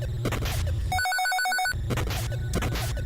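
A short chiptune jingle sounds mid-game in the 1985 NES title Wrecking Crew, a rising run of bright square-wave tones lasting under a second, set between busy looping 8-bit background music and game effects.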